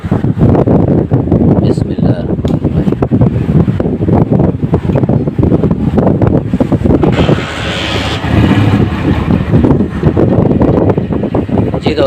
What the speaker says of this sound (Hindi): बाइक को स्टार्ट करते हैं।